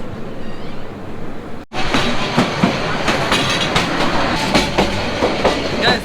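A passing train bound for Sreemangal, heard from a stopped train on the Sylhet line: a brief hush, then a sudden loud, steady rush of rolling wagons with repeated clattering wheel beats sustained to the end.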